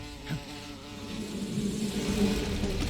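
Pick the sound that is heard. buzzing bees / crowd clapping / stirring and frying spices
buzzing bees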